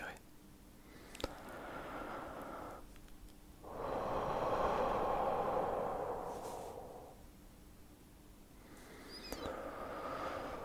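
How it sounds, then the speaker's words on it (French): Slow, deep breaths during a breathing exercise: a long, soft inhale-like rush swells midway, framed by quieter airy breaths and a couple of small clicks, close and gentle. "Maintenant, on va respirer."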